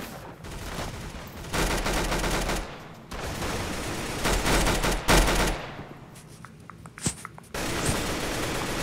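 Gunfire in the Roblox video game: rapid bursts of shots that start and stop in clusters, with brief quiet gaps and a few sharper single pops, fairly quiet overall and without talking.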